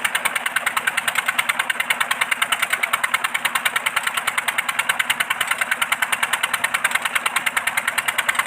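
A 25 HP Peter diesel engine pumping water to irrigate a wheat field, its loud, steady, rapid knocking beat running evenly and close throughout.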